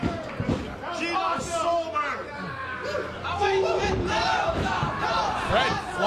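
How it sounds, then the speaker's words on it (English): A wrestling crowd roars and cheers wildly at an indoor independent show, with loud sustained shouting and whooping, thuds from the ring, and a commentator talking over the noise. "And the crowd goes wild."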